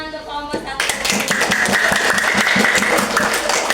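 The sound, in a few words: class applause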